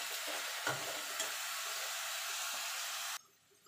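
Red amaranth greens frying in a pan, a loud dense hissing sizzle with a couple of brief knocks from stirring, cutting off abruptly to near quiet at the end.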